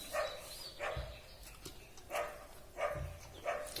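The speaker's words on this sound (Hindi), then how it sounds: "आपको कुत्ता भौंकने की आवाज़ आ रहा है?" A dog barks outdoors near a neighbouring house, giving a series of sharp, mid-distance barks in an irregular rhythm, about five or six over a few seconds, with no speech over them.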